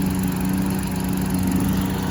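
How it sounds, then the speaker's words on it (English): A lawn mower engine runs steadily after being cranked up, a continuous mid-pitched drone holding at an even, fairly loud level with no speech over it. "The lawnmower's cranked up and going."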